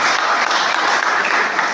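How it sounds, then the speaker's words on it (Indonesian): A church congregation applauds for God, a dense burst of clapping filling the room for a couple of seconds, with no speech over it. "Kasih tepuk tangan buat Tuhan."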